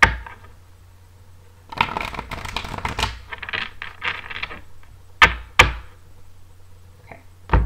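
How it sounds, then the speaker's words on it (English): Tarot cards are shuffled by hand in bursts of quick, close riffling and tapping, with brief clacks and quiet pauses between the shuffles and no talk. "One more shuffle, please."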